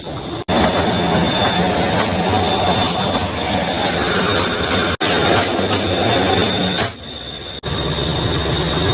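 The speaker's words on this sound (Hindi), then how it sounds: "तो भैया ये ट्रेन थी जो क्रॉस होनी थी, अब ये क्रॉस हो गई" A passing train rolls by loud and close past a locomotive waiting at a red signal, with a steady roar of wheels on rails, rhythmic clattering and brief squeals.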